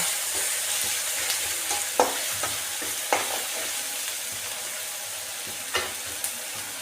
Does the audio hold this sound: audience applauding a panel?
no